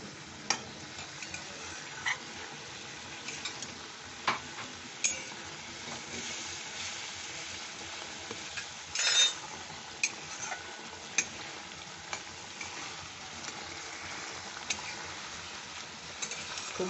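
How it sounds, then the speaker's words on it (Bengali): Ginger paste, salt and spices stir-fry softly in a pan for dhokar dalna, a faint steady sizzle with occasional clicks of a spoon against the metal, no talking. "আদা বাটা মশলাগুলো সব দিয়ে এখন ভালো করে কষে নিতে হবে"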